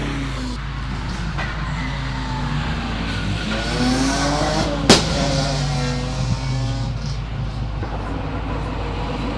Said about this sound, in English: We see the beautiful Mustang now of Ben Trelaw making its way to the top.